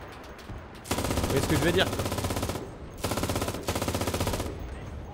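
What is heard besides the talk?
machine gun firing in video game Enlisted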